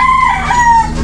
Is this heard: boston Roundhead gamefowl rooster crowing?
yes